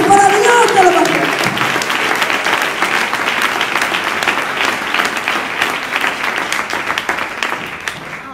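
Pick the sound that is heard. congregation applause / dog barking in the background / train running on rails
congregation applause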